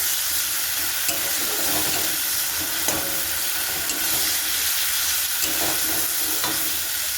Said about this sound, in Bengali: আমার মশলা কিন্তু কষানো হয়ে গেছে